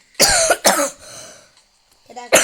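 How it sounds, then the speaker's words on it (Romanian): Two harsh coughs in quick succession, close and loud, followed by a quieter pause and another cough starting at the end. "Mă scuzați, sunt cu o tuse efectiv."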